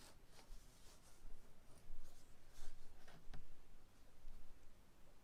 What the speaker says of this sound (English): So I'm just going to cut this up.